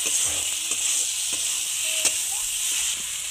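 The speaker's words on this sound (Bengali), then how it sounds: "এবার ভালো করে মশলাটা কষিয়ে নেব।" Spice paste (masala) frying in a pan with cumin powder and salt, a steady broad sizzle with scattered scraping stirs and light clinks of the spoon against the pan throughout.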